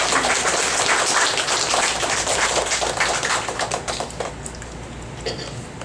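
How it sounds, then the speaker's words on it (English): An audience applauds in a hall in Dallas after a musical performance, a dense burst of many hands clapping that holds steady for several seconds, then thins and fades toward the end. "Give a big clap for music."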